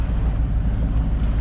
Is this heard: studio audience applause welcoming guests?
no